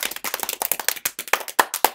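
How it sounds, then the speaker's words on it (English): A small group claps along in quick, uneven bursts, sharp close hand claps that speed up and scatter over a couple of seconds, fairly quiet and with no talking. "Everybody clap."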